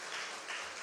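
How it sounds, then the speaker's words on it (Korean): A church congregation claps at a Sunday worship service in Gwangju, welcoming a new member. The applause is a brief, dense and even burst of many hands, close and filling the room. "박수 한번 치겠습니다."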